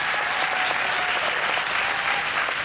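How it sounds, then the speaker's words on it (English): Steady, dense applause from graduates and families filling a Delaware State University undergraduate commencement, a continuous loud wash of many hands clapping at once with no break. "Parents, families, give yourselves a big round of applause."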